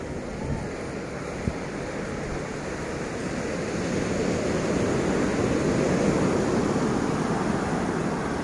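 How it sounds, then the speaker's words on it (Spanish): Ocean waves wash onto an empty beach in a continuous broad roar that swells slightly louder midway, with some wind buffeting the microphone and no voices. "Miren cómo está de solitaria la playa."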